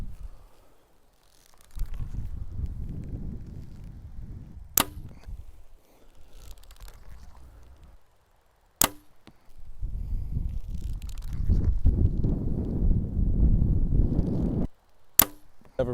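A Mathews V3 compound bow looses three arrows at a 30-yard target, each shot a sharp, very brief snap standing out against low rumbling wind noise and quiet gaps.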